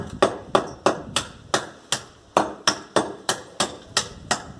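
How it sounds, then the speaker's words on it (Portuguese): A small hammer taps steadily on a plastered wall, about a dozen crisp, evenly spaced strikes close by, with no talking. "Pega o martelinho, né, e vai batendo."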